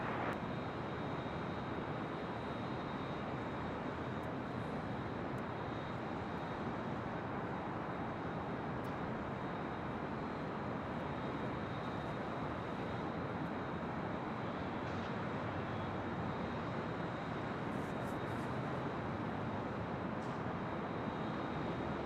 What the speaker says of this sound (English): Oh, Virgin Atlantic A350-1000 snuck in on the south side.